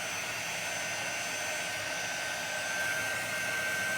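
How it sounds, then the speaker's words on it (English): A quick dry heat tool blowing air steadily, a continuous close whooshing hiss with a faint high whine, constant in level throughout with no talking. "It is a quick dry gun, or a quick dry tool."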